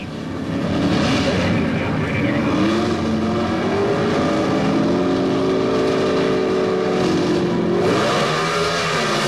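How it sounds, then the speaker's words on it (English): Two drag racers, a Chevrolet and an American Motors Hornet, roar at a 1977 NHRA national event, a loud sustained engine howl with rising and shifting pitch that fills the whole stretch. "The Chevrolet versus the Hornet."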